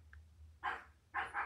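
A dog barks twice in a row, two loud, sharp barks with a pause between them, heard indoors during a home makeup routine with a faint low hum beneath.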